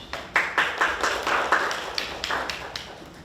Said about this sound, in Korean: 박수로 맞아주시죠.